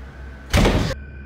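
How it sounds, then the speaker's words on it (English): A door slams shut in front of a woman in a quiet house: one loud, broad, close impact that holds for under half a second, with faint room hum before and after. "the door in front of her slams shut."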